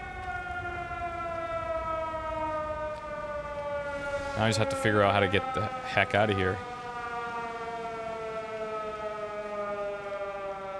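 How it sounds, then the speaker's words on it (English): A steady, droning air raid siren in the video game Everybody's Gone to the Rapture wails throughout with layered harmonic tones, while someone speaks briefly partway through. "be it the air raid siren that we're hearing now"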